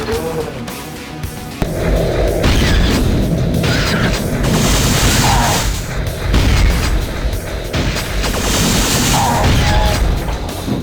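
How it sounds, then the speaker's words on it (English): Shotgun blasts in Quake II RTX, loud booming reports with crashing impacts over dense game noise, several shots across the stretch. "This shotgun is a punchy, high-pitched stinger of a weapon."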